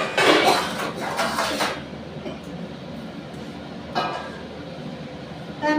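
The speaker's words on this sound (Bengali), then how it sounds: "একটা থালা নেবো, যাতে মাছের ঝোলটা চাপা দিয়ে দেবো বন্ধুরা" A plate is set over a pot of simmering katla fish curry with cauliflower and potato as a lid, giving a bright clattering burst at first, then a short second clink over a quiet kitchen background.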